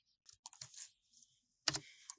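A few sparse keystrokes tap on a computer keyboard while HTML is typed into a terminal code editor, close and quiet, coming as irregular clicks with silent gaps.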